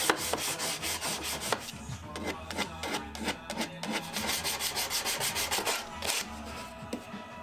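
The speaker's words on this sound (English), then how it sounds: "And then I did some sanding, which really helps to blend the edge banding with the ply." Sandpaper rubbed back and forth over plywood edges with edge banding in quick, steady strokes, a close rasping scratch repeating rhythmically throughout.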